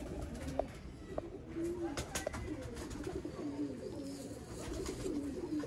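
Pigeons of the Mian Nazir bloodline coo softly in low, rolling calls amid steady background noise, fairly faint, with scattered clicks and handling sounds.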